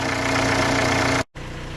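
The 1.9 TDI diesel engine of an Audi A6 C4 idles close by with a low, even throb, briefly cut out near the end before resuming.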